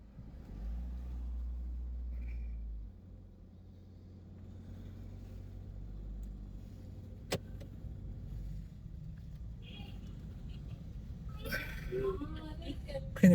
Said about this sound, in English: Driving up the village here.